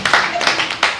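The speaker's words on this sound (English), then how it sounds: "Please let's clap." An audience claps at an event honouring Nigerian photographer Dayo Adedayo, heard as a brief burst of several loud, close, irregular hand claps.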